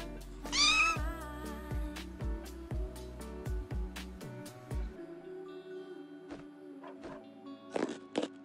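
A cartoon cat meows once in the Toca Boca video game, a short bright rising cry early on, followed by a series of light crunchy taps and game effects, fairly quiet overall.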